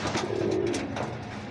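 A newly paired couple of pigeons coos close by, one soft low rolling coo rising and then fading over a faint background hum, with no talking.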